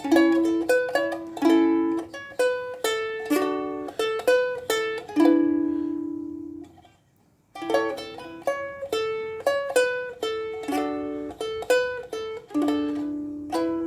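A ukulele plucks a bright melody with steady chords, pausing briefly near the middle with a ringing sustained note before the tune resumes, played alone.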